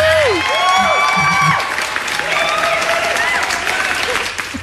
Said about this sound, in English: The good news is bouncing around and everybody's clapping.